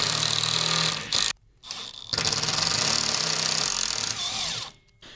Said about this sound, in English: We're going to ram our screw down in here now.